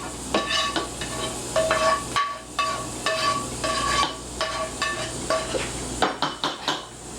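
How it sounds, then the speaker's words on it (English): A pan of spaghetti being tossed with mushroom spinach sauce, with repeated clinks of a utensil on metal and soft wet stirring in a steady, close rhythm. "Now we're going to take our sauce and put the sauce in with the spaghetti."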